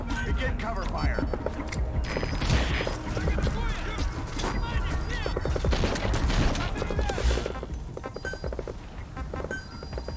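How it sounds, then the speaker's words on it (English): Heavy cover fire roars in Metal Gear Solid V: The Phantom Pain, with sustained loud bursts and rapid rattling shots. Voices talk over the battle noise, which eases toward the end. "Fire! Begin cover fire!"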